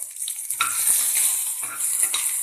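Chilli and garlic frying in hot oil in a pan on a gas stove, a steady close sizzle broken by a few brief stirring scrapes, with no talk.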